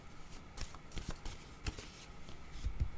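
Tarot cards being handled and shuffled up close, a series of quick papery riffles and slaps in irregular bursts, with no voices.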